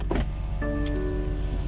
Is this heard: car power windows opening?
yes